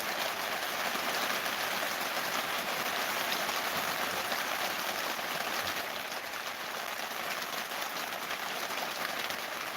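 Heavy rain falls steadily outdoors in an off-grid rural setting, a dense continuous hiss with no breaks and no talk.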